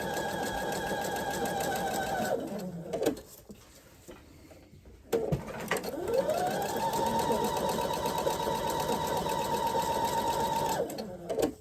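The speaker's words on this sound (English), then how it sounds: "I'm going to re-sew this one. I'm just going to go over that stitch." Sewing machine re-stitching a seam on a quilt block, a close, fast motor whir running for a couple of seconds, pausing briefly, then resuming in a longer steady run.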